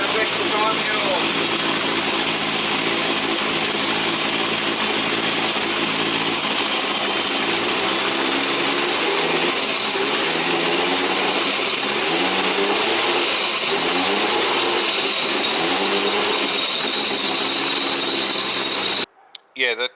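An ethanol-fuelled RB25DET engine with an exhaust leak at the V-band being revved up from a 1000 RPM idle while its timing is set, a loud, steady drone with repeated rises and falls in pitch over about twenty seconds, cut off near the end.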